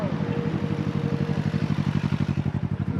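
An Aprilia RSV4 1100 motorcycle pulls up at a Cycle Gear meet, its engine idling in a steady, throbbing pulse close by, with a faint higher whine fading early.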